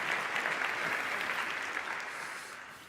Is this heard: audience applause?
yes